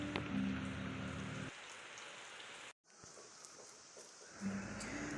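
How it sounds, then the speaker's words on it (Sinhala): Rain falling steadily outside a home during a wet-weather day, a faint, continuous patter with a brief drop-out midway and low hum in the background, no voices. "පේනවනේ ඉතින් තාමත් වැස්ස."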